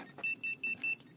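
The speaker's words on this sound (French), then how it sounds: "Donc, la radio bip." A Hubsan H123D drone's radio controller gives four short, evenly spaced high electronic beeps, each lasting about a tenth of a second, clear and close against a quiet background.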